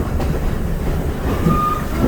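A double-header train runs past at Heritage Park, a steady loud rumble of rolling railcars with faint wheel clatter and a brief squeal, close by with no talk.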